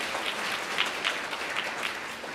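Guests at a wedding ceremony in a hotel hall applaud to welcome a speaker, steady moderately distant clapping with a few sharper peaks, continuous throughout.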